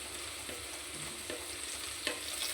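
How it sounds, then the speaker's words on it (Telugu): Peanuts, cashews, curry leaves, green chillies and coriander sauté in a pan with turmeric, making a steady sizzle broken by a few soft scraping stirs. No one speaks. "జీడిపప్పు ఇవన్నీ వేసి మగ్గబెడుతున్నాను అనమాట."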